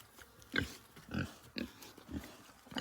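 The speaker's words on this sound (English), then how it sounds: "Update on the pigs." Pigs grunt close by after eating a five-gallon bucket of slop, several short grunting bursts coming at irregular intervals with quiet gaps between them.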